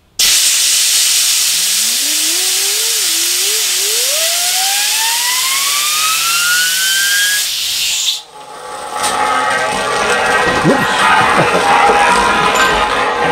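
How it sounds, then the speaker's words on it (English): A compressed-air blowgun blasts onto the rim of a ball bearing race, a loud steady hiss that sends the bearing whirring up to a rising whine for about eight seconds, then cuts off, leaving a fainter rough spinning rattle. "If I get my blowgun and squirt a bit of compressed air onto the rim of the ball race"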